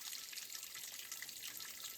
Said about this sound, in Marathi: आम्हाला हे नैसर्गिक स्रोत भेटलेलं आहे पाण्याचं